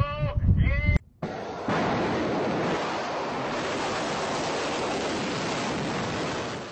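Launch of an Iranian Qiam-1 liquid-fuelled surface-to-surface ballistic missile: after a brief voice, a sudden cutout gives way to a sustained loud, broadband roar that holds steady for several seconds.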